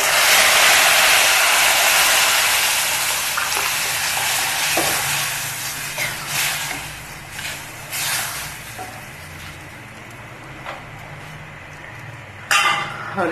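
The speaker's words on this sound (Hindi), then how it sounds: "मैंने भून ली अच्छे से, इसमें दूध डाल दूंगी।" A pan of roasted vermicelli for sheer khurma hisses loudly as milk goes in, then the sizzle settles while a spoon scrapes and clinks against the pan several times, close by and without talk.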